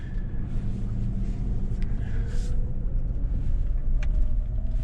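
A 2020 Toyota Land Cruiser moving slowly off-road, its steady low engine rumble and tyre noise continuous and close throughout, with a few faint knocks and scrapes over the terrain.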